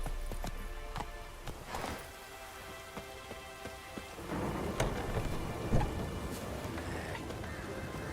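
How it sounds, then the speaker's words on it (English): A video game storm: steady heavy rain pattering on surfaces with sharp cracks and rumbles of thunder, growing denser partway through, sounding continuous and moderately close. "A storm, damn it."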